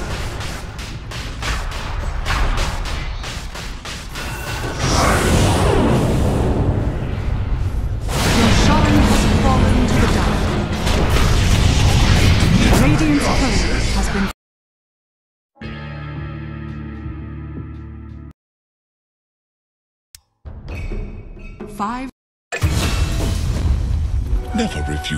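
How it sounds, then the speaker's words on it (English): Dota 2 combat as the Dire bottom tower comes under attack: dense bursts of spell and weapon impacts with booms and whooshes, then abrupt silent gaps and sparse game effects, then a loud return of clashing action. "Dire's bottom tower is under attack."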